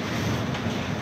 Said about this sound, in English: taking 3 massive great waves right over the top of the boat